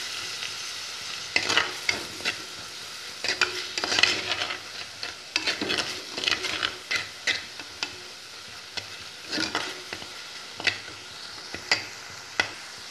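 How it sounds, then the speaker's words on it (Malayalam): Curry leaves fry in hot oil in a pan with a steady soft sizzle, punctuated by irregular scraping and clinking strokes of a spoon stirring, close and alone without talk. "കറിവേപ്പിലയും കൂടെ ചേർത്ത് കൊടുക്കാം. എന്നിട്ട് നല്ലപോലെ ഒന്ന് മൂപ്പിച്ചെടുക്കാം"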